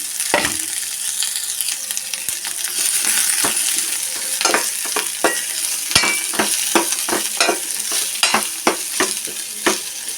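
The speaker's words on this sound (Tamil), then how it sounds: "வெங்காயத்தை போட்டிருக்கோம் வெங்காயம் நல்லா வதங்கட்டும்" Steady sizzling of onions frying in a pan for eggplant gostu, with repeated scraping clicks from a spoon stirring them throughout.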